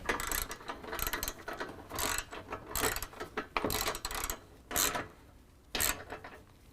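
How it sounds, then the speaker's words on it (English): A ratchet with a 13mm socket clicks in quick bursts while tightening a serrated flange nut on a step bracket of a 2018 Ford F-250, several separate runs of close, crisp clicking with brief pauses. "Next, we'll tighten up our middle bracket serrated flange nut, again with our 13mm."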